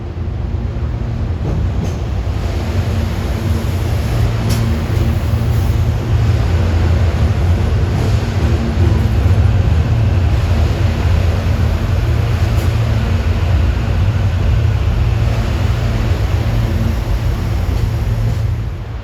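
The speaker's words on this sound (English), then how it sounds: "Come some shrink-wrapped Silverliner 5s that I haven't seen" Shrink-wrapped Silverliner 5 electric trains rumble past nearby, a loud, continuous low roar with rattling wheels and faint clanks throughout.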